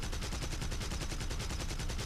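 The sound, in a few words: Heinkel He 112 cannon fire in video game War Thunder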